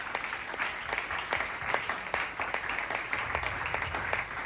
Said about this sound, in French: Est-ce qu'on peut acclamer pour ce nom?